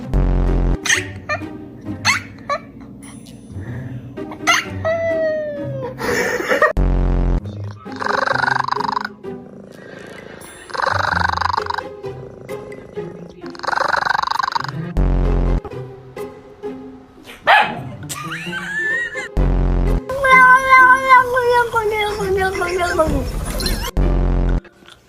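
A cat gives a run of odd, drawn-out meows and yowls, loud and close, mixed with short bursts of other noise and a voice speaking at points.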